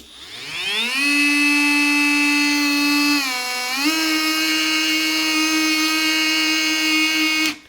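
A Ryobi ONE+ HP oscillating multi tool running with no blade fitted, a loud close high-pitched motor whine that spins up in the first second, dips briefly in pitch around midway, then holds steady before cutting off.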